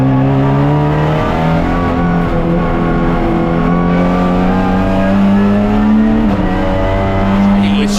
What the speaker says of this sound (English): Christian Pericarpi from the pole starting to accelerate away